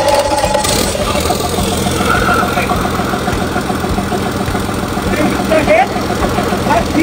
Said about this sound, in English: Firstly, we start the engine.